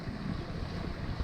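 A sailboat crossing Lake Michigan under sail at about five knots gives a steady rush of wind and water, a low continuous whoosh with slight swells and no voices.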